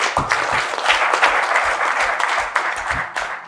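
A crowd at a tennis gathering bursts into sustained applause, a thick continuous patter of many hands with heavier individual claps standing out in a loose rhythm, loud and close throughout.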